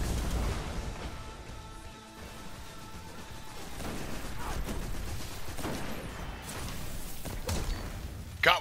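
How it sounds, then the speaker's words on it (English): Grenade and weapon blasts in the Destiny Crucible multiplayer game, several muffled thumps and bursts at irregular intervals under a constant game soundscape, with a louder pop near the end. "Come on, grenade. Do work,"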